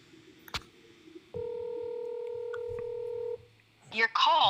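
A phone call is dialed, one short tone followed by a steady two-second ringback-style tone at moderate loudness, then a voice starts speaking right after.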